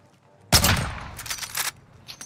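Gunfire erupts suddenly in a video game shooter match: a loud, dense burst of rapid shots that continues in rattling waves for almost two seconds, then gives way to a few fainter pops.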